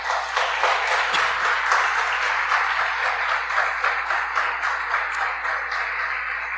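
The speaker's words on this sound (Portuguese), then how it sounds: "Você pode dar um aplauso a Jesus?" A church congregation breaks into sustained applause, a dense even wash of many hands clapping throughout with no voices over it.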